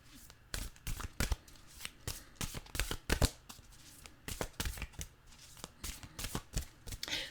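Nature's Whispers oracle cards are shuffled by hand in quick, crisp riffling bursts that come irregularly and close up, repeating through several seconds at a fairly soft level.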